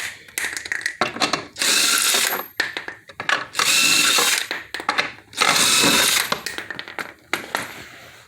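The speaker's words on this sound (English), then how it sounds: "So we're going to go ahead and get these bolts off here." A ratchet with a 21 millimeter socket spins bolts off the front wheel area of a 2003 Nissan Altima, loud close bursts of rapid clicking and whirring broken by short pauses and metallic handling.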